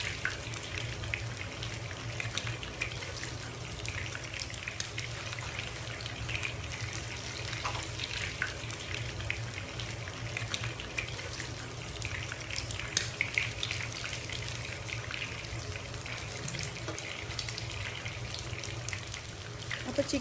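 Chicken legs and curry leaves frying in oil make a continuous, moderately faint crackling sizzle that runs steadily throughout, with a voice speaking over it at times.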